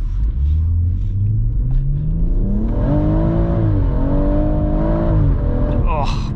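A BMW M140i accelerates hard during 0-60 runs, heard from inside the cabin as a loud, close engine drone whose pitch climbs through the gears, dipping briefly at shifts before rising again.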